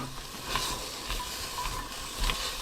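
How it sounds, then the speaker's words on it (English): Onions sweat in a hot pan for NY-style hot dog onion sauce, giving a low, steady frying sizzle with faint crackles that swell slightly now and then, close and fairly quiet. "I'm going to sweat those onions down"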